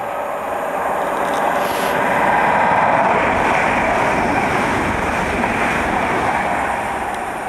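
Wind buffeting a microphone on a station platform, a loud, continuous roaring rumble that swells in the middle and eases slightly toward the end.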